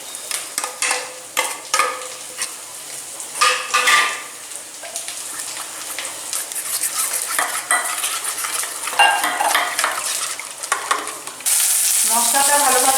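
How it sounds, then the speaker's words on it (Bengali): Cumin, coriander and chilli spices fry in a pan for hilsa biryani, a loud continuous sizzle with repeated clinks and scrapes of a metal spoon stirring, ending in a sharper, steadier hiss. "মশলাটা ভালোভাবে ভাজা হয়ে গেছে,"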